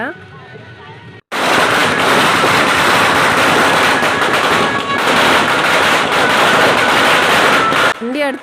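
Firecrackers burst nonstop in a dense, loud crackling barrage during a Ganesh immersion procession on a street, starting abruptly after a quieter moment and cutting off near the end, with voices faintly heard before and after.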